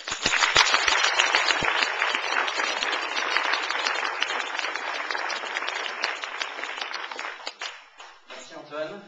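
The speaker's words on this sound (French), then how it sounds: "Merci d'applaudir Guillaume." Sustained applause from an audience clapping for Guillaume, dense and loud for several seconds before tapering off; a voice briefly enters near the end.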